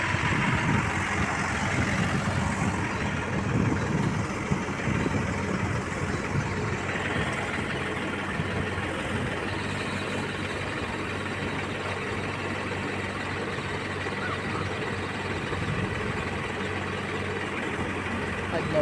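A tractor engine idles with a steady low diesel rumble while fresh manure is loaded for mixing with soil on a farm. Faint voices may be present in the background, and the drone runs continuously throughout.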